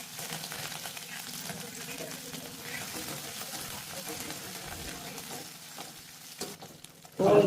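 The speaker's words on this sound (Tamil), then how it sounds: "பூண்டு பச்சை மிளகா சேர்த்து லைட்டாக ஒரு நிமிஷம் வதங்கி" Garlic and chopped green chili fry in oil in a pan, giving a steady low sizzle throughout with a sharper stir or clatter at the very end. A voice talks over part of it.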